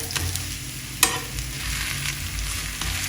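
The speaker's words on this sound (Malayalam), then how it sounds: "ഒന്ന് ഫ്രൈ ആക്കിയിട്ട് എടുക്കുക." Store-bought parotta fries in a pan with a steady, close sizzle and soft crackle, broken by one sharp tap of a utensil, with no talking.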